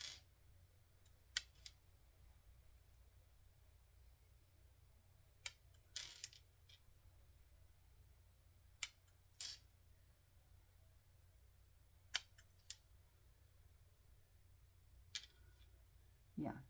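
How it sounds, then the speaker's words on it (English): Scissors trimming frayed fabric edges, a series of faint, sparse snips spaced a few seconds apart against a quiet room hum. "Just trimming up all the edges."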